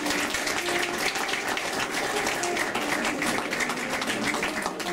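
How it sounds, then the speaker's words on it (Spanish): Church congregation applauds for the Lord during a sermon, a dense, continuous wash of many hands clapping at even loudness throughout, sounding almost like rushing water. "Un aplauso al Señor."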